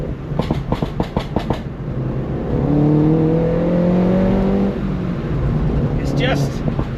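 A car engine on overrun, heard through a slightly open window: a series of crisp crackles and pops, then a steady droning whine as the revs fall, with more pops at the end.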